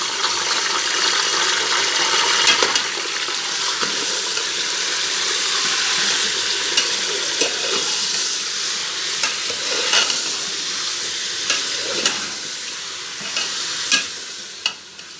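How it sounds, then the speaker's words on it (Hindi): Steady sizzling of mutton frying in hot oil for qorma, with occasional scraping and stirring clicks, close and continuous with no voices. "अब हम इस ऑयल में गोश्त ऐड कर देंगे।"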